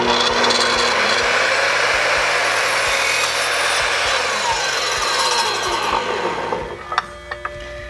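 A miter saw cuts through wood in one loud, continuous pass of about six seconds, then winds down and stops with a few light clunks.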